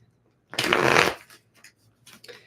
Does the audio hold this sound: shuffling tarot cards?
yes